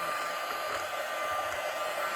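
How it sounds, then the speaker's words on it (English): A mini vacuum runs inside a sewing machine to pick up lint, a steady, fairly quiet motor whine with an even airy hiss throughout, heard alone. "The mini vacuum just goes on in there and pick up all the extras."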